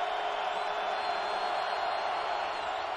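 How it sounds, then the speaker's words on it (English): A football stadium crowd at a 2011 Northern Iowa vs Montana college game keeps up a steady, broad roar of noise with faint whoops, sustained evenly throughout at a moderate distance with no clear talk over it. "2nd down and 6, this crowd making noise."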